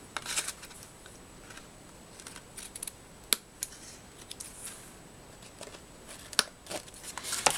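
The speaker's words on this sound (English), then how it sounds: "And get my scissors and trim it." Scissors trimming paper for a handmade card: a faint series of soft, irregular snips and crisp paper rustles, close and quiet, with no talking.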